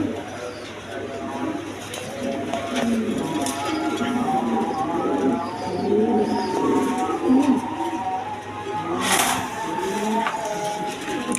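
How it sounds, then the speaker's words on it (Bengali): Farm pigeons coo in soft, low, overlapping murmurs close by, with a steady hum and a few faint clicks and rattles in the background. "এগুলো খামারি কবুতর।"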